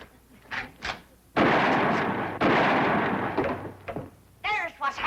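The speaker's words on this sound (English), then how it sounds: "Shoot the telephone wire." Two loud gunshots go off in a TV sitcom as a rifle fires at a telephone wire, each blast long and rumbling, with speech before, between and after the shots.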